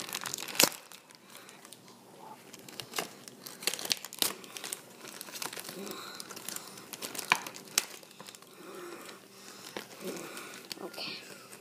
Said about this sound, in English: Let's unwrap it.